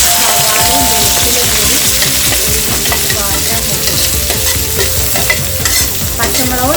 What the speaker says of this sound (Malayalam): അത് നമ്മുടെ ചട്ടിയിൽ എണ്ണ ചൂടായിട്ടുണ്ട്. ഞാൻ ഇതിലേക്ക് പച്ചമുളകും